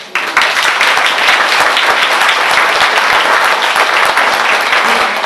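An audience at a French public gathering breaks into loud, sustained applause, dense overlapping clapping that holds steady throughout, close and full with no talk on top.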